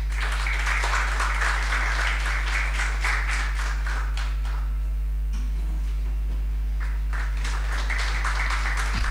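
At a ceremony for a sensitization training program, an audience claps in scattered, continuing applause over a steady electrical hum.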